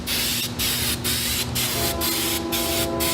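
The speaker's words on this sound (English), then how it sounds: "So what we're going to do is spray this back side of the insulation" An aerosol adhesive can hisses in repeated short bursts onto the back of QuietRide AcoustiShield insulation, about six sprays in quick rhythm, close and loud, with a faint steady hum underneath.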